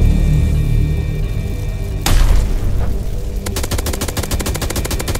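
Gunfire in a SpongeBob video game boss fight: a heavy boom at two seconds, then rapid, loud automatic bursts rattling steadily to the end, with no talking.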